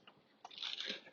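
Quiet, close crunching of small dry kibble being bitten and chewed by a cat, a brief burst of crackly munching.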